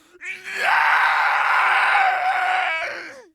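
A voice-acting audition delivers a drawn-out death scream, a loud sustained wail of nearly three seconds that rises sharply, holds strongly, then trails off at the end.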